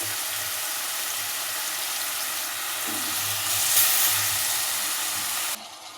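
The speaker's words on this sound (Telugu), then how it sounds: "ఆయిల్ అయితే ఈటెక్కింది సో మనం కట్ చేసి పెట్టుకున్న ఆనియన్ అయితే వేసేసుకోవాలి" Chopped onion hitting hot oil in a pan for a chicken curry, a steady close hiss and sizzle that swells briefly midway and then drops quieter, with no talk.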